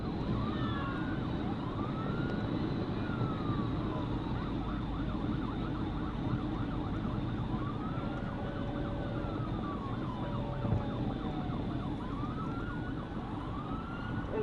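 A police car siren wails continuously in rising and falling sweeps during a pursuit over a steady rumble of traffic, moderately distant and unbroken throughout.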